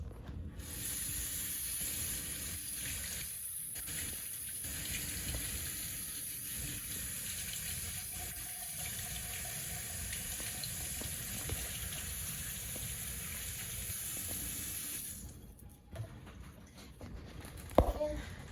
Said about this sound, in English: Turn my water back on.